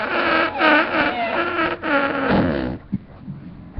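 A voice imitates a fart with a long, loud buzzing raspberry, then breaks off into a few short, quieter sputters.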